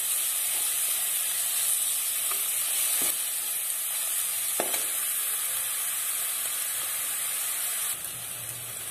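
Steady, loud sizzling of tempering spices frying in hot oil for Amritsari chhole, a continuous crackling hiss with a few brief pops, close by.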